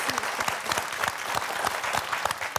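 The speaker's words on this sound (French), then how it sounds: "Vous voyez, tout le monde vous applaudit." Studio audience applauding on a French TV word game show, dense continuous clapping throughout, loud and close.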